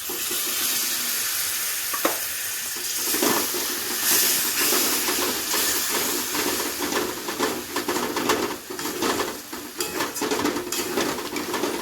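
Tomato paste hits hot oil and fried spice masala for a potol korma, giving a loud, steady sizzle and hiss close by, with crackling bursts that keep going as the mixture is stirred.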